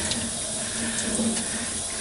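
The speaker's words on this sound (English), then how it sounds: "So you just rinse it out really well." A dirty cellulose sponge is rinsed under a running tap, giving a steady close hiss of flowing water for about two seconds with no voices.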